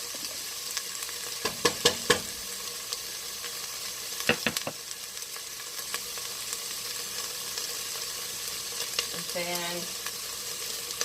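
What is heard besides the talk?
sautéing rice in a pot with salami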